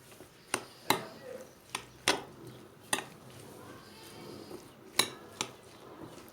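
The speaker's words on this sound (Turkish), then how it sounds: "Çok az miktarda yağ ekliyorum ve bu şekilde karıştırıyorum." Eggs, potato, onion and a little oil are stirred in a bowl, the utensil striking the side in sharp, irregular clinks and knocks about every half second, with a soft scraping wash between hits and no talk.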